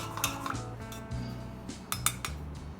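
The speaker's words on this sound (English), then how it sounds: "Just put some chili powder into it. Whisk it well." A utensil whisks a salad dressing with chili powder in a bowl for a veg Mediterranean salad, giving quick, close metallic clinks and scrapes in an uneven rhythm.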